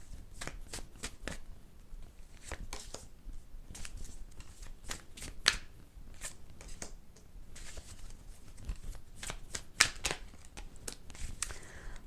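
Tarot deck shuffled by hand at close range, a steady stream of papery riffles and sharp card snaps with a few louder flicks, moderately loud and continuous, with no talking.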